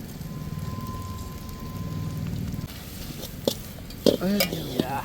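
Chicken noodles with ginger, capsicum, onion and cabbage tossed in a wok at a Hyderabad roadside stall: a steady sizzling hiss for the first few seconds, then scattered metallic clanks and scrapes, with voices nearby.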